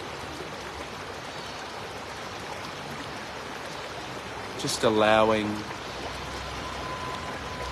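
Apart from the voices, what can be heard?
river flowing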